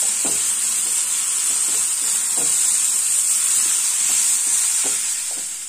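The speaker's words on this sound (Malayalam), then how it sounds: "ഇനി ഇതെല്ലാം കൂടി നമുക്ക് നന്നായിട്ടൊന്നങ്ങോട്ട് മിക്സ് ചെയ്ത് കൊടുക്കാം." Cooked plantain and green gram are stirred in a hot pan, with a steady steamy sizzle and soft, irregular scrapes of the spoon close by and no talking.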